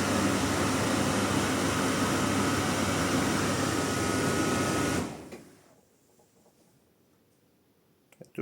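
A Beko-Arcelik tumble dryer runs with its heating element on, giving a steady, loud broadband whir for about five seconds before it cuts off into near silence and a few faint knocks.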